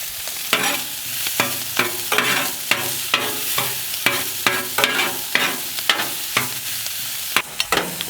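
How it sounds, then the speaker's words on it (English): Vegetables stir-fried in hot oil on a home hibachi-style griddle sizzle steadily, broken by a rapid series of sharp scraping and clacking spatula strikes, close and loud, with no talking. "We're gonna cook these veggies for about a minute, maybe 2."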